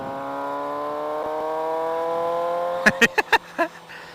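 A 2018 Suzuki GSX-S750 motorcycle fitted with a RadiantCycle GP Shorty exhaust idles close by with a steady, buzzy drone, then gets four or five sharp throttle blips in quick succession, each a short loud rev that drops straight back to idle.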